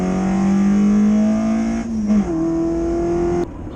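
A Toyota Avensis SR accelerates hard, its engine note climbing steadily through a gear, dropping briefly at the shift and then rising again, loud and close from inside the car.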